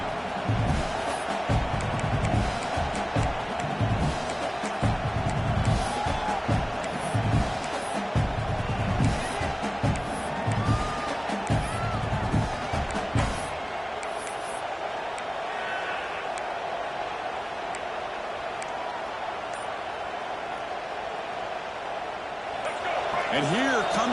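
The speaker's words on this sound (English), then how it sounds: "This crowd is trying to inspire this defense to make a big red zone stop." A packed stadium crowd at a Georgia versus Michigan college football game roars steadily as the defense faces a third-and-goal, a dense, continuous wall of distant cheering and noise that swells and settles without letup.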